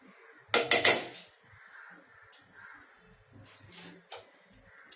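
Masala being stirred in a metal pan for palak paneer, with a quick cluster of loud spoon scrapes and clanks followed by scattered lighter taps and clinks.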